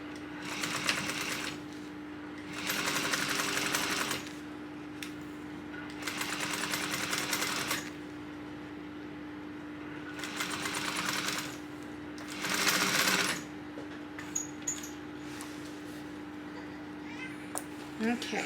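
A sewing machine bastes a tote bag seam at a quarter-inch allowance, running in about five close, steady bursts of rapid stitching separated by short pauses, with a constant low hum underneath.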